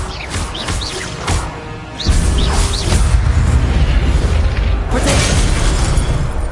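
An Expelliarmus spell blasts in Hogwarts Legacy, with sharp magical whooshes and zaps building into a loud, sustained booming rumble of combat effects.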